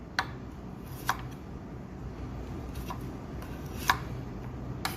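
A knife chops carrots on a cutting board in a Japanese cooking exam kitchen, a few sharp separate taps spaced irregularly over a low background hum, fairly faint, with no talking.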